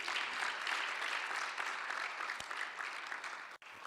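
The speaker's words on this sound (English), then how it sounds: "a very big hand clap for this team" Audience applause for the organizing team at a startup demo day event, a steady, dense clapping that fills the whole stretch at moderate volume and cuts off sharply just before the end.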